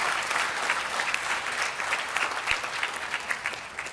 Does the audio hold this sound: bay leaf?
no